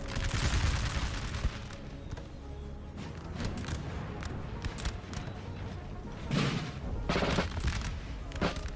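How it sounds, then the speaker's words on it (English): Artillery firing a cluster shot in the Napoleon: Total War video game, heard within a continuous battle din of rattling musket fusillades and booms, with a few louder bursts standing out near the end. "You can fire a cluster shot into Joseph's forces."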